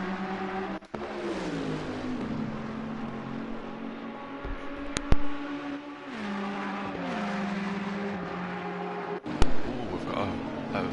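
A Ferrari race car roars through Monza's Curva Parabolica in a racing game, its engine droning and shifting pitch as it accelerates, with other cars nearby and a commentator talking over it.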